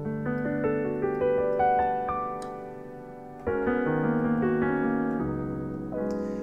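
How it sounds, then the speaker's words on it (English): Pianoteq Grand Steinway D classical piano plugin, a sampled-style concert grand playing sustained chords and melody notes with rich ringing overtones, loud and close, with a fresh chord struck midway; no talking. "the Grand Steinway D classical"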